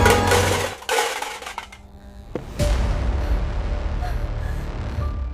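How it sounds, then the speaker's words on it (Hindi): Kitchen utensils clatter and fall in a sudden loud burst of metallic crashes and rattles, followed by a lingering resonant ring and dull room noise; no voices. "दूसरी रात रसोई से बर्तन गिरने की आवाज आई।"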